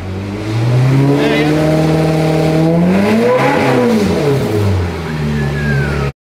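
An old rental Ferrari engine, newly reconstructed, runs loud and close, revving up and easing back in sweeping rises and falls before cutting off abruptly.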